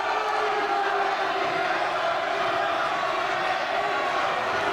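A dense wrestling crowd roars and cheers in a steady, loud wash of voices, a sustained din with no breaks from start to finish.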